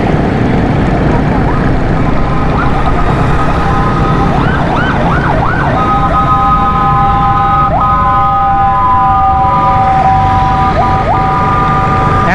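A wailing ambulance siren rises and falls repeatedly over loud, steady traffic noise on a street in Karachi, close by and dominant throughout.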